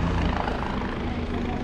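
A helicopter runs near the Kedarnath helipad, a loud continuous rotor-and-engine roar close by that holds steady throughout the short stretch.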